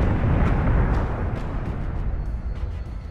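Warship weapons fire and shells explode in the space combat game Battlestar Galactica Deadlock, making a continuous loud rumble with a rapid series of sharp bursts at irregular intervals.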